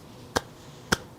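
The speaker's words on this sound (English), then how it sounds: "Clap it up for Depot for this" Two sharp, isolated hand claps about half a second apart, crisp and close, with near silence around them.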